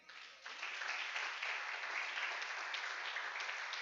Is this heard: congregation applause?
yes